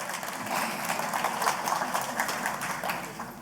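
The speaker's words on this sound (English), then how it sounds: "Okay, you can applaud him." Audience applause in a lecture hall, a dense, steady burst of many hands clapping at moderate distance, lasting a few seconds without speech.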